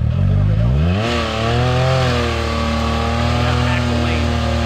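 A 400HP Can-Am X3 side-by-side fitted with saw blade wheels launches hard, its engine loud and close as it revs up in rising, sweeping pitch, then holds a steady high drone.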